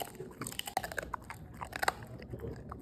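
A pet bites and chews a crunchy dehydrated fish-skin donut treat, with close, quiet, irregular crunches and gnawing snaps over a few seconds.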